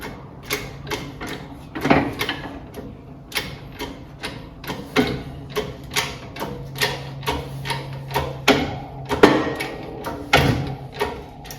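A hydraulic shop press forces a ball joint out of a GM A-body front upper control arm, giving repeated sharp creaks, ticks and metallic clicks at an uneven rhythm, close and moderately loud, with a steady low hum underneath.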